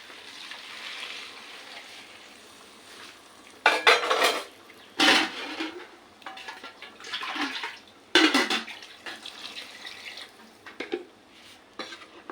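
A spoon stirs Kerala-style Arabian Bukhari rice in a pot after water is added, making several loud, irregular bursts of scraping and clinking separated by quieter gaps.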